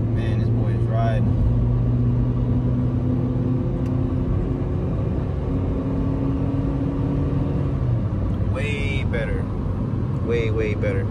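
A Honda Civic accelerates hard on a test drive, its engine droning loud and steady from inside the cabin with rising rumble; someone talks over it near the end.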